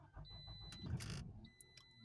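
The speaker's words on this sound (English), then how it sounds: "That started the car." Toyota Matrix engine starting after key programming: a short cranking whir followed by the engine catching, heard faintly up close in the car alongside a thin electronic whine and clicks, with no talking.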